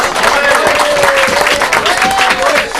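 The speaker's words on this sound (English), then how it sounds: "First of all, give yourselves a round of applause." Football lads clapping for themselves after a cup win, loud close-range applause from a small group in a room, mixed with overlapping voices and a cheer.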